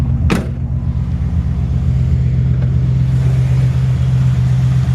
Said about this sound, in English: Just a nice solid running engine.